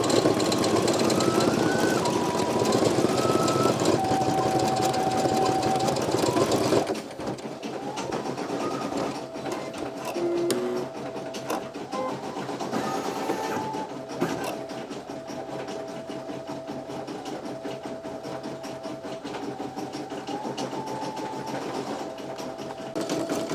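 A Brother PE900 embroidery machine runs a long stitch-out with a continuous, fast needle chatter and motor hum. The texture shifts slightly partway through, then stays steady and close, with no talking.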